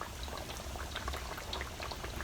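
Fish pieces frying in a pan of hot oil, a steady dense bubbling and sizzling crackle that holds close and even throughout, with no talking.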